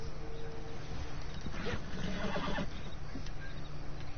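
A horse in Red Dead Redemption 2 gives one clear neigh lasting about a second, midway through a steady low background drone, with no talk over it.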